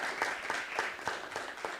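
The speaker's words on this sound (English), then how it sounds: "Another round of applause for our panel." Brief, moderately faint clapping from a conference audience applauding a panel, a short patter of hands heard on its own.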